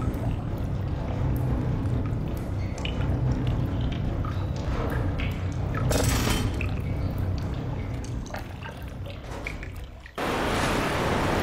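Water pours and drips in the video game Black Mesa, a continuous splashing, trickling wash with scattered droplet taps and a brief burst of spray near the middle, briefly cut out before resuming.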